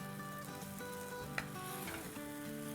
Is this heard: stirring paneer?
yes